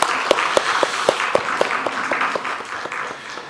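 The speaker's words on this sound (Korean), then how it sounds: "우리 다음 세대 자녀들 축복하는 마음으로 박수 한번 쳤으면 좋겠습니다" A church congregation at a Korean service claps to bless the children of the next generation. Moderate, continuous applause with distinct sharp claps close by, gradually thinning toward the end.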